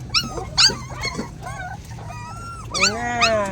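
Hungry puppies whimper, yip and squeal in a noisy cluster before feeding, with rising whines and short yaps close by, a steady background hum underneath.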